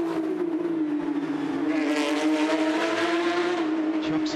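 Porsche Carrera Cup race cars at Toronto, running through the turns, a loud sustained engine drone that rises as more cars sweep past, with a rough, bright texture and possible faint tire squeal.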